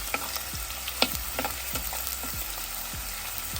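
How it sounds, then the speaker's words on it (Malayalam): Chopped shallots, garlic and ginger frying for a Kerala fish curry, a continuous sizzle broken by rhythmic spatula strokes scraping and knocking the pan roughly every half second. "ചെറുതായിട്ട് അരിഞ്ഞു വെച്ചിരിക്കുന്ന ചെറിയ ഉള്ളി ചെറുതായിട്ട് അരിഞ്ഞിരിക്കുന്ന വെളുത്തുള്ളി കൊത്തി അരിഞ്ഞ ഇഞ്ചി ഇത് നമുക്ക് നന്നായി ഒന്ന് ഇളക്കി കൊടുക്കാം"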